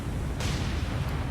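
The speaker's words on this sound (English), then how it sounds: "all the guns to fire here." Naval guns aboard destroyers in the War On The Sea game fire a heavy boom that breaks out suddenly partway through, over a low rumbling background, loud and close with no talking.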